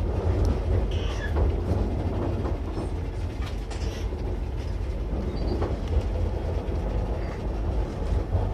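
TER Normandie regional train pulling into Trouville-Deauville station, a steady loud rumble of wheels and rail clatter with brief squeaks, heard from on board and continuing throughout.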